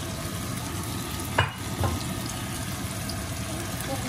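Steady sizzling of liver frying in a pan with its marinade, with a couple of brief scraping stirs near the middle; no voices.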